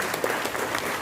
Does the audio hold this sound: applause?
yes